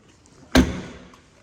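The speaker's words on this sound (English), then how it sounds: "So closing up the doors, passenger side first," A single solid thud as the passenger door of a Mini Clubman Cooper S is shut, loud and close, with a short fading rattle afterward and no one speaking.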